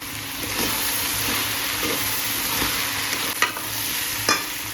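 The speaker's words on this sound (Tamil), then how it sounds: "அரை வேக்காடு வேகிற வரைக்கும் நல்லா வேக வச்சு அடிப்பிடிக்காமல் கிண்டிக்கிட்டு இருக்கணும்" Vegetables for sambar stir in a pot, a steady wet sizzle and simmer running throughout with a few soft scrapes of a spoon against the pot near the end, no talk.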